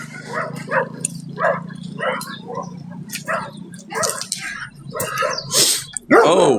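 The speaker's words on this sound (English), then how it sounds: "Multiple dogs barking because I'm in a neighborhood." Several neighborhood dogs bark in repeated bursts throughout, moderately close, over a steady low hum, with a louder closing burst.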